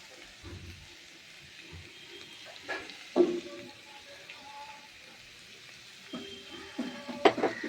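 Ghee added at the end to a vegetarian banana flower (mocha) ghonto in a pan gives a soft, faint sizzle with occasional clinks and stirring scrapes, a few louder utensil knocks near the middle and end.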